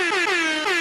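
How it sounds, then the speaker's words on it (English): An air horn sound effect blasts during a song, a loud sustained brassy honk that keeps pulsing through its wavering tones, close and alone. "I'm not here for your random air horn."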